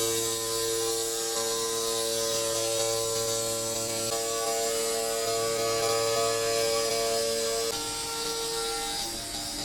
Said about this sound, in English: CNC hand push tile cutter. Adopting a dual blade structure, integrated cutting and trimming.